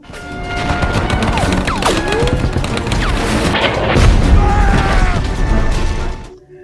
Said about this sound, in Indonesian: Tapi tiba-tiba Red terkena ledakan yang membuatnya terluka parah.